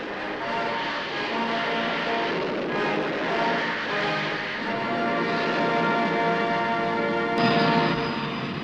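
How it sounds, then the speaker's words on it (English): Jet Provost Mark IV jet trainers of the RAF Central Flying Training School perform an aerobatic display, producing a steady, loud broadband engine roar that holds throughout with a sharper surge near the end. "The Red Pelicans of the Royal Air Force Central Flying Training School in their Jet Provost Mark IVs lead the aerobatic display"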